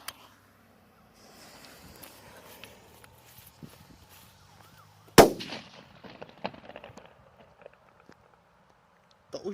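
A Czech Megatřesk firecracker goes off outdoors with a single sharp, loud bang midway through, preceded by faint rustling and a low hum and followed by scattered crackles and light debris sounds.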